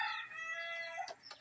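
Pet chickens calling close by, a steady tonal cluck-like call that holds for about a second before two short sharp bursts, with no talk over it.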